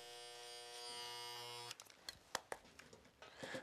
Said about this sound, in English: And then we move on to the trimmer.